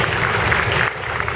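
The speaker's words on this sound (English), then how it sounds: "So have a round of applause for yourselves." Audience applause at a haute couture fashion event, a dense steady wash of clapping filling the short moment at a constant loud level.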